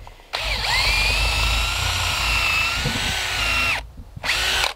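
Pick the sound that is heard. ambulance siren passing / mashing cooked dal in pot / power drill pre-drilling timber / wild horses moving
power drill pre-drilling timber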